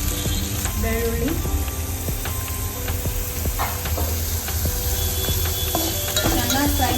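Onion, curry leaves, garlic and mustard seeds fry in a pan for a ridge gourd dish: constant close sizzle with regular spoon scrapes and knocks, plus faint tonal background sounds.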